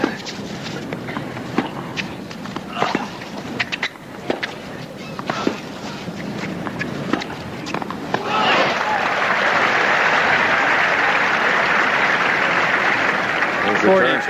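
Tennis crowd at the 1983 US Open men's final, scattered claps swelling into sustained, dense applause filling the stadium while commentators talk over it.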